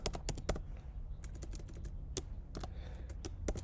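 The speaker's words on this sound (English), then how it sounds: "look at my keyboard while I type, which is embarrassing" Quick, irregular keystrokes clatter on a computer keyboard, sharp clicks in bursts and pauses, close and fairly quiet with no other sounds around them.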